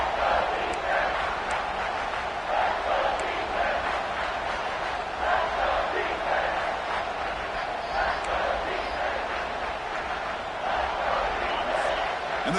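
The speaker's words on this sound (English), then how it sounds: "And the crowd coming to life here, trying to help this defense down in the red zone" A football stadium crowd in South Carolina roars and cheers steadily as the defense holds in the red zone, a dense, sustained wall of voices with scattered shouts.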